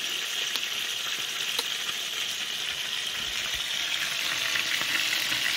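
Chicken pieces sizzle steadily as they brown in a frying pan, a close, continuous frying hiss with faint crackles and no voices.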